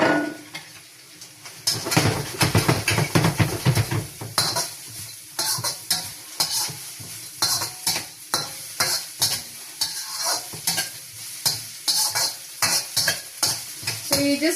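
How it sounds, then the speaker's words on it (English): Vegetables and spring onions being stir-fried in a wok: a hissing sizzle under repeated scraping and clanking of a utensil against the pan, tossed in quick irregular bursts, close and fairly loud. "you just toss all your veggies and don't let it like completely become soggy and chewy"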